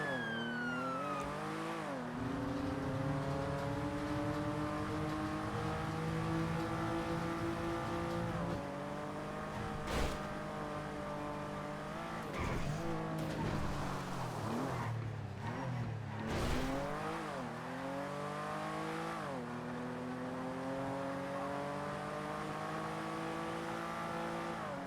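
Porsche sports car driving in the video game GTA on a NoPixel roleplay server, a steady engine drone with gear-change pitch sweeps, close and continuous, with siren-like tones mixed in.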